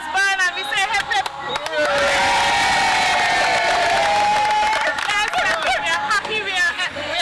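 A crowd at a Saint Vincent and the Grenadines event cheers loudly and continuously, with shouts, chatter and a sustained collective hooray rising and falling over several seconds.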